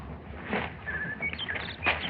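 Faint, scattered bird chirps and short whistles from a room in an old comedy film, sparse and irregular over a quiet background.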